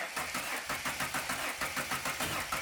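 A Ford Fairlane engine cranks repeatedly in a fast, even rhythm, the starter churning without catching, close and continuous throughout.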